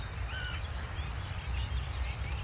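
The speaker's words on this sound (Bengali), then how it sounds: "এখানটায় কিন্তু দেশীয় অন্যান্য পাখির ডাকও শোনা যায়।" A crow caws a few times, fairly faint and at a distance, over a steady low outdoor rumble near a lake, with other native birds calling softly in the background.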